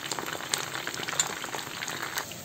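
Eggplant pieces fry in oil in a pan with a steady, even crackle and sizzle. Scattered sharper pops rise above it, with no talking.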